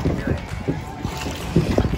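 Paddle boat being rowed on a park lake in central Madrid, with soft splashing and paddle strokes under wind noise and people talking.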